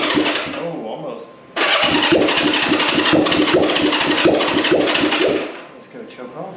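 A 1965 Honda CB450 Black Bomber motorcycle engine, choke on, cranks and catches briefly, a loud stuttering burst of rapid firing pulses for several seconds before dying back toward quiet.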